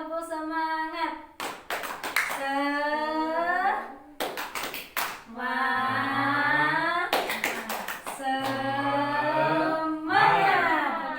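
A group claps together in rhythmic bursts for a 'tepuk semangat' cheer during a parenting class session, sharp volleys of claps alternating with someone speaking between them.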